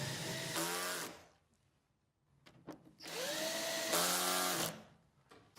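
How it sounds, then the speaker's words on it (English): Power screwdriver tightening the lower cover screws on an SMA Sunny Boy Storage battery inverter, two loud sustained whirring bursts with rising pitch as each screw seats, separated by a short pause with small clicks. "Tighten all screws crosswise."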